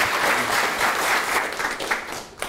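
Studio audience applause on a Korean industry broadcast program, a brief, full burst of clapping from a crowd that fades slightly toward the end.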